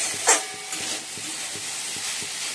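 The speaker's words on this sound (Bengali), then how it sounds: "এদিকে তো বরবটি আলু ভাজা বসিয়ে দিয়েছি" Yardlong beans and potatoes fry in a pan with a steady, close sizzle and faint stirring scrapes throughout.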